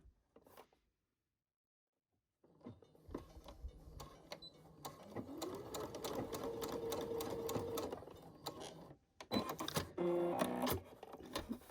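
A sewing machine stitches darts on a fabric face mask, starting after a short silence and running in a steady mechanical whir with rhythmic needle clatter, pausing briefly before a final loud burst of stitching.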